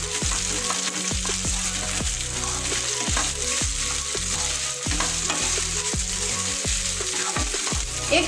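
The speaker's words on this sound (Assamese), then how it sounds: "নিমখ দিয়াৰ পাছত মই এইখিনি ভালদৰে ভাজি ল'ম" Khar, an alkaline preparation, frying with salt in a pan, loud close sizzling with a steady rhythm of spatula scrapes and stirring strokes about every half second.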